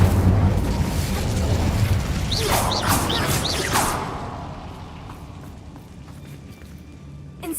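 Incendio fire spell cast in Hogwarts Legacy, a loud roaring fiery whoosh with sharp bursting flares in the middle that fades to a quieter rumble, with no talk.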